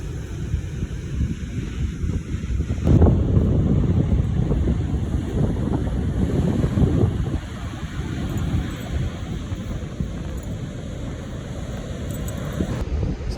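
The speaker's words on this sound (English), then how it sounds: "the waves are pretty big" Big ocean waves breaking on a beach in Spain, a continuous roaring wash of surf mixed with heavy wind buffeting the microphone, no one talking.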